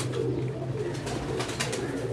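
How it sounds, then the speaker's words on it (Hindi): A Teddy pigeon coos in soft, repeated low pulses, close and steady for a couple of seconds with no one speaking. "बेहतरीन और लाजवाब किस्म का जो है वो ये टैडी कबूतर है"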